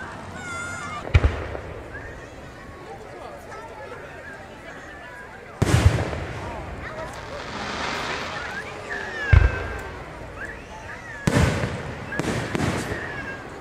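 Fourth of July fireworks in Wilmington, Massachusetts: four sharp, loud bursts spaced several seconds apart, several followed by crackling tails, over a steady outdoor background.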